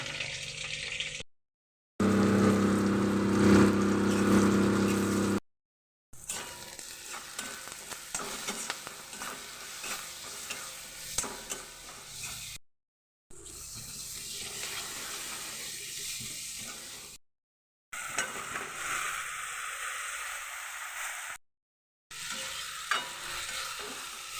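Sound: food frying and being stirred in a pan

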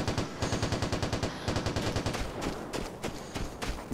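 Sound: RPK machine gun gunfire in the video game Vigor

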